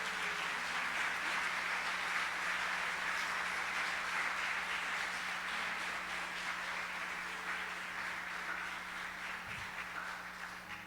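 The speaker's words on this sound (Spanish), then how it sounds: "Le da un aplauso a Él en esta hora." A church congregation applauds in a continuous, even wash of clapping that fades slightly toward the end, heard at a moderate distance over a low steady hum.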